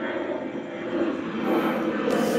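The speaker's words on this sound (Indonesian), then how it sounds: "pesawat lewat lagi" An airplane passes overhead, a broad, steady engine rumble that grows slightly louder toward the end, heard outdoors with no talking.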